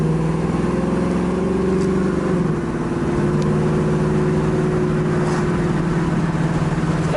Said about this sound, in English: This Flowmaster mufflers give it a nice non-objectionable sound.